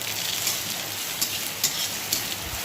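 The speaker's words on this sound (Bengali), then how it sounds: "এদিকে দেখো বৃষ্টি শুরু হয়ে গেছে।" Steady rain falling outdoors with a wind-driven hiss, during a monsoon-like shower in a home kitchen setting; a continuous broadband wash with a few louder gusts or drop bursts, no talking.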